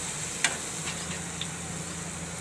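Chopped green onions sautéing in hot oil for a Gujarati green onion and sev curry, a soft, even sizzle held close with a single sharp tick near the start and otherwise no talk.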